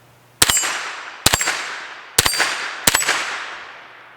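Four sharp gunshots from a brand-new Keltec Sub2000 Gen3 carbine ring off steel rack targets, each crack followed by a metallic clang that decays over the next second, spaced roughly a second apart, loud and close with no talking.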